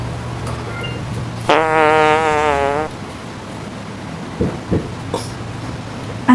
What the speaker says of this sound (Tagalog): Ang baho ng utot mo.